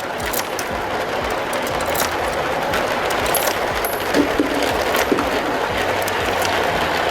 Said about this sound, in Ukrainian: Прошу, беремо монетки угу. і кидаємо ви з того боку, я з цього.